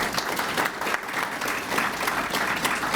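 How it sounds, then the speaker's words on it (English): An audience at a chamber of commerce awards presentation applauds board members with steady, full clapping that fills the room, with no talking over it. "Let's give them a round of applause,"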